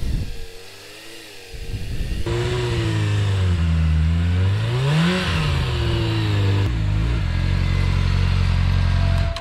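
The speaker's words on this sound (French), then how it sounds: "mon moteur était toujours au-dessus de 2000 tours par minute et pourtant je roulais hyper lentement" Car engine running above 2000 rpm while the vehicle moves very slowly, its hum rising and falling slightly, close and fairly loud.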